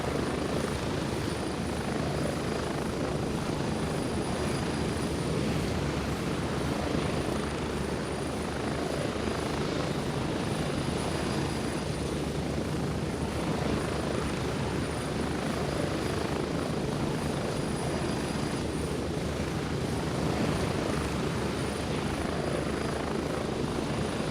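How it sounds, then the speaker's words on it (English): A loud, steady helicopter engine drone with whirring rotor noise from the video game Gray Zone Warfare runs continuously and evenly throughout, with no voices. "Helicopter is loud"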